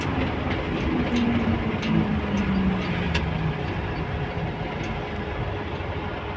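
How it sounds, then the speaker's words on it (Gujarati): A train rumbles past up close at a level crossing with a continuous heavy roar, wheels squealing and screeching faintly along the rails. "ફાટક બંધ ટ્રેન જાય છે"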